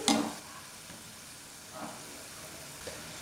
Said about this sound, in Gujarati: આ કચોરીને હંમેશા મીડિયમ ગેસ પર જ તળવાની